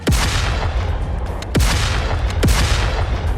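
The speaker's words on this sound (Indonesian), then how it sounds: "ledakan besar terjadi." Heavy booms of a big explosion sound effect in a fantasy battle, three sharp blasts each followed by a loud roaring rumble, close and filling the short stretch without any voices.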